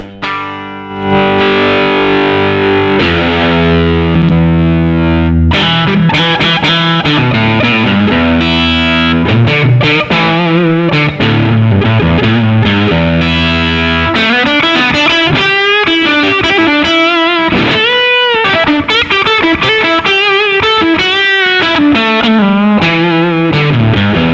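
Heavily fuzzed electric guitar, a Strat with single-coil pickups through an MMK Electrics Pavlof fuzz pedal, plays loud sustained chords and then a wailing lead line, thick and saturated throughout, with no talking.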